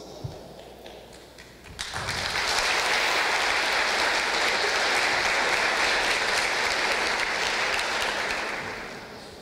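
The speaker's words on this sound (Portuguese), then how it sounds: "Eu queria que vocês recebessem com uma salva de palmas Correia e Raul Soares." An audience at a graduation ceremony bursts into loud, sustained applause after a brief quiet opening. The clapping stays full and even, then tapers off at the close.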